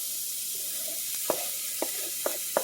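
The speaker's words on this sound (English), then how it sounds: "we're going to take our onion and put that in there." Onion sizzling in a hot pan while making Sunday gravy, a steady soft frying hiss with a few faint clicks of the pan on the stove, close and even throughout.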